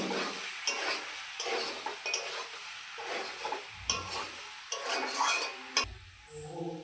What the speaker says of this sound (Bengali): দেখুন ভালো করে আমি মশলার সঙ্গে একদম কষিয়ে নিয়েছি